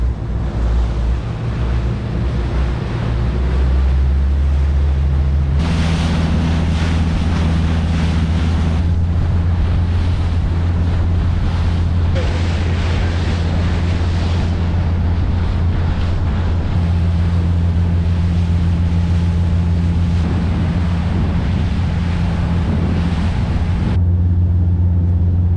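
A boat engine, warmed up to temperature, builds revs on the water, its low throbbing drone stepping up to a higher, steady pitch under loud wind buffeting the microphone.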